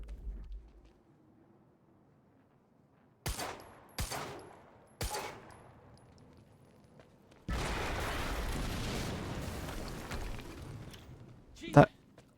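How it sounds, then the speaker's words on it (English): Explosions and gunfire in the video game Quantum Break: three sharp booming hits, then a sustained rumbling roar and one final loud crack, all close and loud, with no voices. "HQ, we just heard an explosion near the harvesting perimeter"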